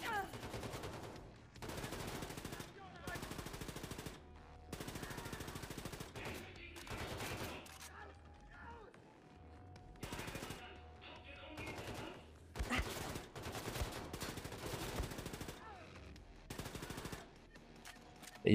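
Player's gun firing in Wolfenstein II: The Freedom Chronicles DLC, repeated rapid bursts of automatic fire lasting one to two seconds each, separated by short pauses, with occasional talk between bursts.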